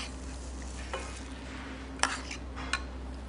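Ginger dressing goes into a hot frying pan and sizzles softly and steadily, with a few sharp clinks of a utensil against the pan near the middle and end, and no talk.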